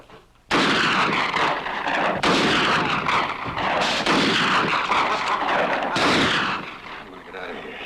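Gunfire in a Western radio drama set in Mexico, heavy booming shots and bursts with a thick, reverberant roar that nearly fill the scene, breaking off briefly between volleys before easing at the end.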